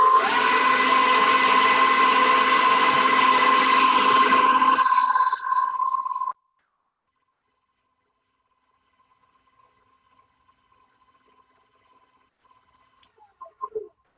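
An electric mixer runs on medium, beating egg into sugar and oil, loud and steady for about six seconds before it cuts off, followed by near silence and a few faint clicks.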